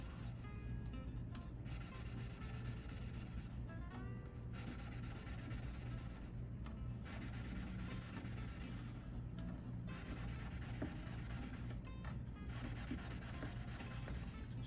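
Steel wool rubs back and forth over the frets of a classical guitar, a steady close scratchy rasp with short pauses between strokes and no voices.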